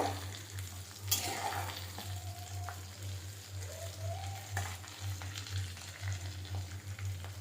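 Crispy potato rolls fry in oil after being flipped, giving a continuous soft sizzle and bubbling, with a brief louder spatter near the start and a low steady hum underneath.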